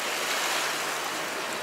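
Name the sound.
sailboat sailing through waves near Texada Island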